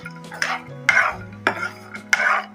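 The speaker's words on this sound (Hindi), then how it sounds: "किशमिश लग भून लेंगे" Raisins being fried in a pan for sheer khurma, with a spoon scraping and clinking against the metal in several sharp strokes over a faint steady sizzle.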